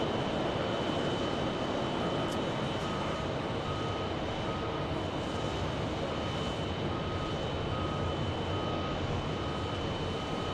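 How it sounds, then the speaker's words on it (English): An Airbus A321neo touching down at Phoenix Sky Harbor, heard as a sustained, even jet roar and whine, with a vehicle's reversing beeps repeating regularly in the background. "A321 Neo being touching down"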